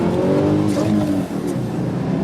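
A turbocharged car converted to run on LPG accelerates hard, its engine a loud, close drone with rising harmonic tones that dip briefly before pulling on.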